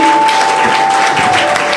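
An audience claps at a felicitation during a Foundation Day celebration in a church gathering, dense steady applause filling the whole short stretch, loud and close, with a faint tone humming underneath.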